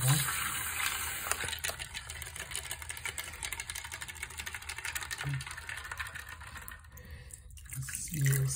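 Tap water runs steadily into a sink being filled to soak items dusted with baking soda, a continuous broadband wash heard fairly close with a few brief voices and clatter over it.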